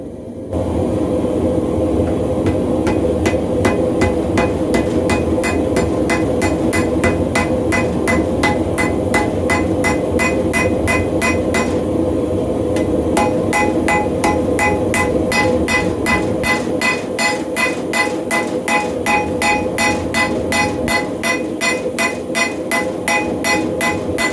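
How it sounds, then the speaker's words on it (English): Rapid, ringing hammer strikes on a hot steel knife blade edge being forged, steady and regular throughout, a dense run of sharp metallic blows over a constant background roar. "Also starting to hammer in the edge a little bit."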